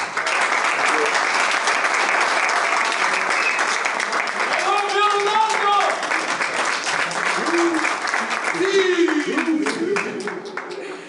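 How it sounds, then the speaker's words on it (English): Sustained audience applause for footballer Cristiano Ronaldo fills the whole stretch, a dense, steady wash of many clapping hands, with brief cheers and a few voices rising through it toward the end. "another round of applause to our great player and star, Cristiano Ronaldo"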